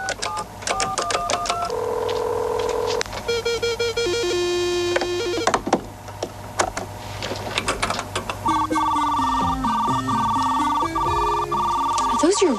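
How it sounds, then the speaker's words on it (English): A 1983 home computer modem dials into a school computer, giving a run of close telephone tones, a DTMF dialing sequence and a shifting electronic warble that carries on steadily without talk. "Dialing into the school's computer."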